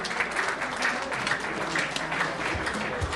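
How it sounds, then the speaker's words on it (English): Audience at a launch ceremony in New York City claps for a longtime United Nations photographer, a sustained, fairly even burst of applause with steady crowd texture for a few seconds. "A big round of applause for Gloria."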